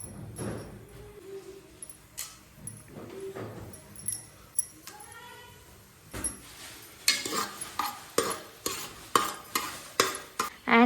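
Whole cinnamon, cloves, cardamom and black pepper fry in a pan with a soft sizzle while a spatula stirs, scrapes and clinks against the metal in irregular bursts that grow busier and louder toward the end.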